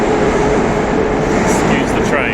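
A Moscow metro train rumbles loud and close at Belarusskaya station, a steady, dense roar of wheels and motors with higher squeals rising near the end, while someone speaks over it.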